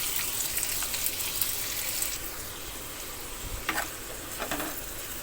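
Onion drops into hot oil and fries with a moderate, steady hiss, with a few brief clatters and splashy bursts breaking through close by and no voices.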